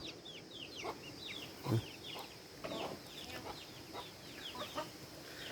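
A flock of chickens clucking and chattering continuously nearby, with overlapping calls over a low outdoor background hum.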